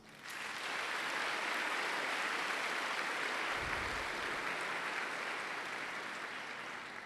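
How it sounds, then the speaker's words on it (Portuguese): An audience in a church bursts into applause after a homily, with sustained, dense clapping that fills the space, is fairly faint overall, and slowly tapers toward the end. "merece uma salva de palmas"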